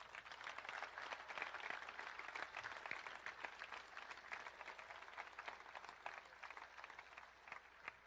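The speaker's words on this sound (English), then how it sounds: "give a round of applause" A crowd at the Indianapolis 500 drivers meeting applauds in a large venue, a sustained wash of many hands clapping heard from some distance, steady and even for several seconds.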